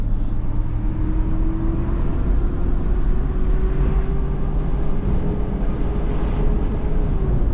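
A salvaged auction car pulls away and accelerates through its gears, a steady engine drone with a slowly rising whine heard from inside the cabin, continuous and fairly loud, with no talk.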